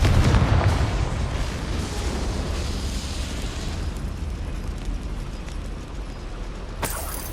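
A Confringo fire spell bursts in Hogwarts Legacy with a loud, deep explosive blast up front that decays into a long rumbling roar, followed by a sharp crack near the end.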